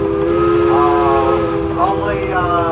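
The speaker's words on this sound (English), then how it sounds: "Next one here is an advanced Romney steam engine." An Advance Rumely steam traction engine rolling in a parade of power, with a steady rumbling drone and sustained whistle-like tones over a loud continuous background.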